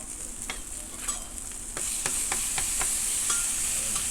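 Butter sizzles on a hot griddle for a Philly cheese steak, a bright steady hiss that swells louder midway, punctuated by sharp scraping taps of a spatula close by.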